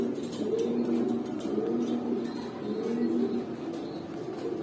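Grizzle pigeons coo in repeated low, rolling phrases, several calls in steady succession close by, with faint background noise and no talking.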